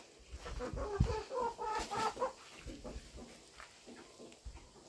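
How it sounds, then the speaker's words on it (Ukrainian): Soft clucking and low throaty calls from a rooster nearby, a few short bursts over a quiet farmyard background. "Півничок."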